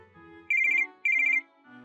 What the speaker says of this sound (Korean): 어머님한테서 갑자기 전화가 왔네